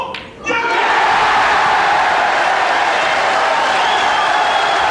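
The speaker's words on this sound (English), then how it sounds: "The crowd here at the Crucible are going mad for Bradford's Joe Johnson." A capacity crowd at the Crucible roars and applauds at a world snooker final as Joe Johnson beats Steve Davis, the cheering and clapping rising sharply to a loud, dense, sustained wall of noise.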